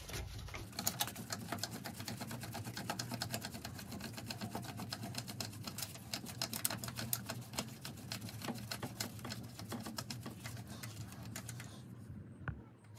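Floor jack pumping up a Nissan Rogue's lower control arm to load the suspension to ride height, a steady run of quick mechanical clicks and ratcheting strokes close by, with a low hum underneath and no speech.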